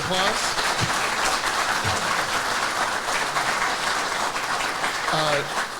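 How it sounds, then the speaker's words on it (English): Steady, dense applause from a large crowd at a mayoral candidate forum fills the whole stretch, with faint voices mixed in underneath. "Everybody, please give them an applause."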